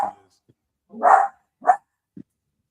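A dog barks a few short, sharp times, close and fairly loud, with a brief pause between barks and a soft yip at the end.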